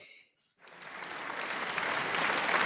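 Audience applause at a theatre awards ceremony, swelling from a brief hush into steady, dense clapping that grows louder and fuller toward the end.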